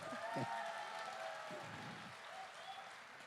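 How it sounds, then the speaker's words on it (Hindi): An audience at a live Hindi interview event applauds in a soft, distant, even wash of clapping, with a few low voices and murmurs underneath. "अगर सुनना चाहते हैं तो एक जोरदार ताली मेरे लिए बजा दो"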